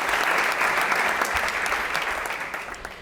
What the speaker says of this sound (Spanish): Les damos un fuerte aplauso a los 4